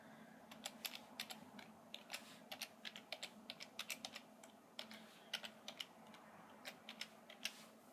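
Keys clack irregularly as a password is typed on a computer keyboard while setting up a Raspberry Pi, a quiet run of light taps with short pauses and no talking.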